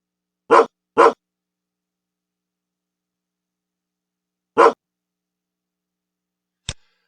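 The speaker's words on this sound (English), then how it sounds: "since I have 2 dog sounds, I'll give him a new dog sound" A dog barks in short, sharp bursts inside a Scratch program: two quick barks, a pause, one more bark, then a brief click, each loud and isolated against silence.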